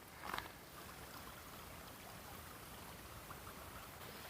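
A small stream trickles steadily through rainforest, a soft continuous wash of flowing water with one short knock near the start and no voices.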